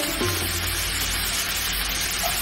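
Freshly washed, chopped amaranth leaves land in a hot pan and fry with a loud, steady sizzle that fills the whole moment, close and continuous, with no talking.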